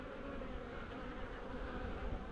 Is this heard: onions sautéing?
no